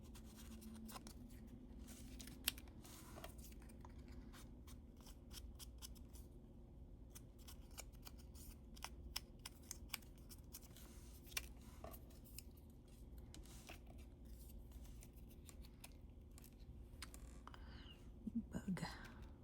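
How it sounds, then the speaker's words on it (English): Scissors snipping through paper in a quiet indoor room, with soft scattered cuts and rustles spread across the stretch, close but faint and with no talking over them. "And I'm going to cut these out"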